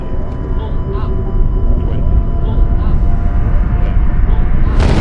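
In a film scene, an airliner ditches onto a river with a loud, continuous roaring rumble, and a narrator talks over it throughout.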